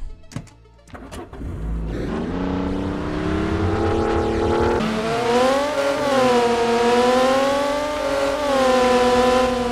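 A car in ArmA 3 drives on a punctured right wheel, starting with a few knocks before the engine revs up into a steady, loud drone with rising and falling pitch.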